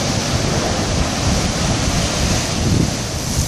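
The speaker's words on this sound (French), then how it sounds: "et là il y a des belles petites vagues" Small ocean waves wash steadily against a harbour jetty on Réunion's west coast at dusk, a continuous broad rushing surf with soft swells, close and fairly loud, mixed with wind buffeting the microphone.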